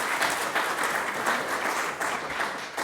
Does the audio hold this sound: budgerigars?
no